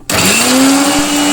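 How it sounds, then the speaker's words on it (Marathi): A kitchen mixer grinder whirs loudly and steadily as it grinds green chilli thecha ingredients, starting abruptly after a moment of quiet, its motor whine climbing slightly as it runs on without talk. "अरे बापरे, एवढा मोठा आवाज मिक्सरचा."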